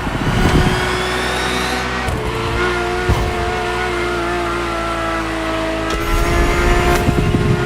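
Supercar engine roaring in the racing video game The Crew Motorfest, a loud sustained drone with rising gear-change whines, brief tire squeals and sharp shifts, continuous throughout with no speech.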